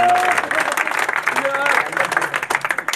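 At a pigeon race prize event in Jeddah for Pakistani pigeon fanciers, a crowd breaks into applause, the clapping mixed with cheering voices and talk, close and lively, loosening into uneven claps toward the end.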